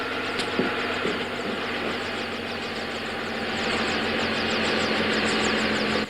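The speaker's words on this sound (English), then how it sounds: "That helicopter sounds like it's landing." A helicopter approaching to land near a house, a steady low engine and rotor drone that grows slightly louder toward the end, with a few brief knocks early on.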